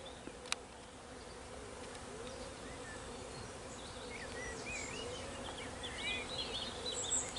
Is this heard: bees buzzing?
yes